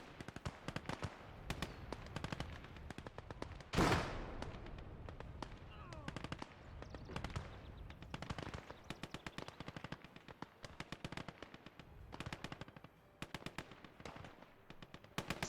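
Rapid bursts of automatic machine-gun fire crackle through a Gates of Hell ranked PvP battle. A louder, sharper blast lands near the start, with bursts repeating irregularly throughout and a player talking over the gunfire.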